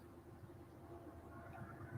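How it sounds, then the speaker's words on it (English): A train passes at a distance with a faint, steady rumble and low mechanical drone throughout, with no voices heard over it. "Shut up, train."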